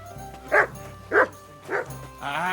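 A dog in Kingdom Come: Deliverance II barks four times in a row, short evenly spaced woofs close by, the last one drawn out into a whine-like yelp.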